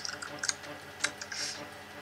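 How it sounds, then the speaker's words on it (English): Loud typing on a computer keyboard in a room during a Final Fantasy VIII game session, heard as a few irregular, close clicks and clacks with no talking. "Someone's typing very loudly."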